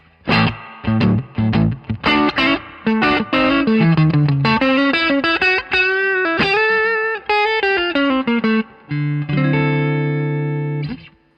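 A vintage Stratocaster electric guitar is played clean through its pickups, with a run of plucked notes and chords ending on a sustained ringing chord and no talking.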